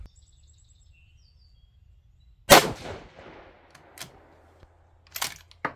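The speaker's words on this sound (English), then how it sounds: "All right, so we'll go ahead and shoot them." Two sharp rifle shots from a 6mm ARC cartridge crack out a few seconds apart, each loud and close with a brief echoing decay, separated by quiet outdoor background.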